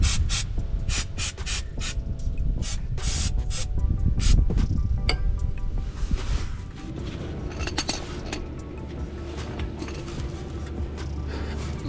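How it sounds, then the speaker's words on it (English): Brake cleaner sprayed onto parts beneath a Nissan 350Z during a transmission fluid change: repeated sharp hissing aerosol bursts up close, then a steadier hiss with faint metallic clinks in the background. "Usually take some brake cleaner,"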